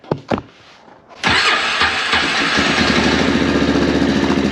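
A 450 fitted with a CVTECH clutch, low on fuel, gives a few brief sputtering bursts, then catches and runs in a steady, loud close-up drone.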